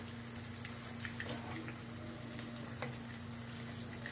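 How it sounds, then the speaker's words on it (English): Russian chicken cutlets frying in hot oil in a pan, a dense continuous crackling sizzle with scattered spits and pops over a low steady hum, close and quiet, no speech. "Flip and fry. See, it's well fried"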